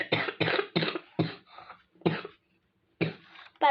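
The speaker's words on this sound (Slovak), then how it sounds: "Pardon, veľa kašlem." A woman coughs hard several times in quick succession, close to the microphone, with the bursts clustered in two groups and short pauses between them.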